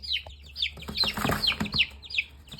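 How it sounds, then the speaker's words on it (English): Four small baby chickens kept in a bird cage peep and cheep rapidly in high bright chirps, several birds overlapping close by with a soft background hum. "We ended up getting 4 new baby chickens."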